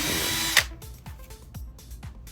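Power drill fitted with an M5 self-tapping bit, a loud burst of whirring followed by a series of rhythmic grinding pulses as it bites in, close and without talking.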